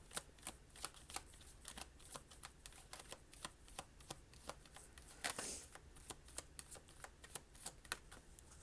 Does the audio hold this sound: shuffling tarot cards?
yes